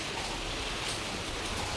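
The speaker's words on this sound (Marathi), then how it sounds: "पाऊस जोरात आहे आज" Heavy afternoon rain pours down in a dense, steady hiss that fills the whole short stretch evenly and close by, with no voices.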